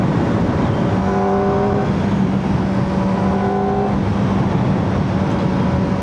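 A 2025 Kawasaki ZX-4RR four-cylinder motorcycle engine drones steadily and loudly while riding, holding a fairly even pitch with wind rush and no talking.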